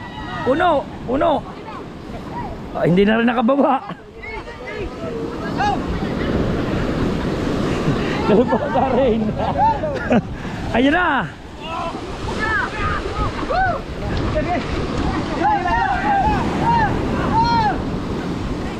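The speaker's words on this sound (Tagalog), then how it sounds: "Ayun ang alon!" Ocean waves crash against a small boat at sea, loud surging wash with wind buffeting the microphone, under excited shouting voices.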